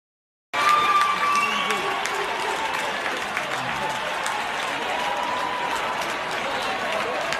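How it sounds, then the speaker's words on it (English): Poll workers at an election counting room cheer and clap, a dense burst of applause and crowd noise that starts abruptly and then holds steady, with voices mixed into the noise. "They're cheering."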